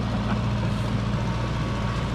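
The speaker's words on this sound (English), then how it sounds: "Randy Barrett's 1965 International bean picker." A 1965 Chisholm-Ryder green bean picker mounted on an International Harvester 504 high-clearance tractor, its engine giving off a steady, loud, continuous rumble close by, with no speech.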